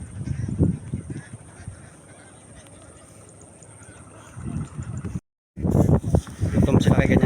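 Ducks honk and quack in bursts at close range, with a lull in the middle and a brief silent gap before the noisy calling resumes, mixed with a voice talking.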